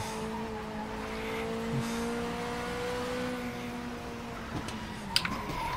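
A race car engine in the Race 07 (WTCC 07) video game, droning steadily with shifting pitch as the car slides, and a brief tire squeal near the end.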